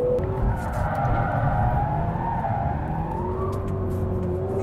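A Mercedes slides sideways on a race track, with tyres squealing in a sustained wavering tone over a loud, continuous engine roar heard from inside or close by.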